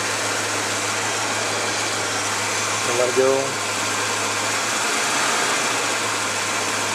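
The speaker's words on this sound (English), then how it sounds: "Okay, the engine goes down." A car engine idles with a steady low drone, and a voice briefly speaks partway through.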